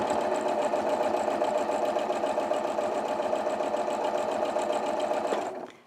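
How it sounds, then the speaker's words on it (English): A sewing machine stitches a Dresden plate quilt block, running in a fast, steady mechanical whir close by before slowing and stopping just at the end. "I'm going to go in a bit, and then I'm going to reverse to lock my stitches."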